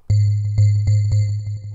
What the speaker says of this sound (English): we are going to use this sound here, 100 bell tones.